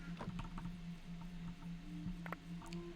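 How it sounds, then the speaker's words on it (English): Rapid, loud typing on a computer keyboard, with a dense patter of clacking keystrokes over a steady low hum, close and continuous. "It's sorry for the extremely loud keyboard."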